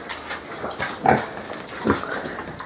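A pig on a rural farm in Cajamarca, Peru, gives a few short, fairly close grunts, with the loudest near the middle and one more toward the end, over low background noise.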